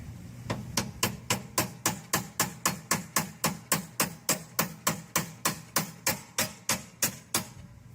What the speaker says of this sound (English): because I'm tapping on it, it's actually pushing that steering wheel back up